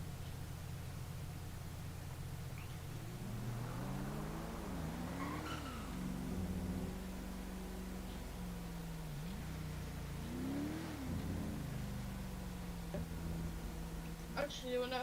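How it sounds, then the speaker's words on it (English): A car races through an intersection in a video game, its engine rising and falling in pitch as it passes, with brief tire-skid sounds, all under steady background noise. "Whoa, that car zipped through that intersection down there."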